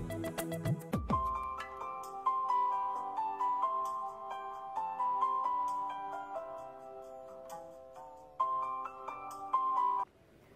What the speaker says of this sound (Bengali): এইবার মুক্তামণির একটা ফোন দিয়া দেব।